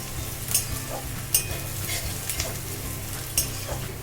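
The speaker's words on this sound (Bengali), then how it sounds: "আর একটু ভালো করে এটাকে ভাজবো" Chicken frying in a pan for a Bengali chicken kosha with chopped green chillies, a steady close sizzle broken by a few sharp spatula scrapes and stirring clatters.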